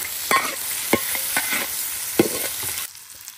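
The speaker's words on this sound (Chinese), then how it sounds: "大伯抡起锅铲还是干净利索。" Ginger and garlic are stir-fried in a wok with a metal spatula, giving several crisp, close scraping strokes at an uneven pace over a light sizzle, with no talking.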